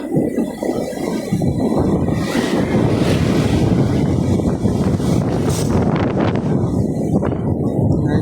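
Surf rolling in steadily at the shore, loud and continuous, with gusty wind buffeting the microphone throughout.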